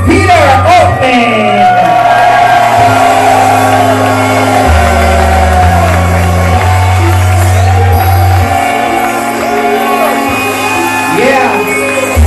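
Wedding reception crowd cheering and shouting for the parents over loud music with steady bass notes, whoops and yells rising throughout, close and loud.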